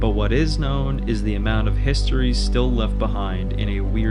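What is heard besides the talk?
None of the usual background noises is heard.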